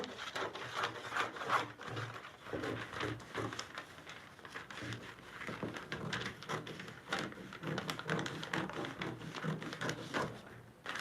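Scissors cutting through fabric while a bustier pattern is drafted, a steady run of close, crisp snips and rustles with short pauses between strokes.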